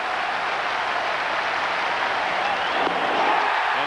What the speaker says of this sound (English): this crowd, which has been criticized in the past for being too quiet, has been electric from moment 1 tonight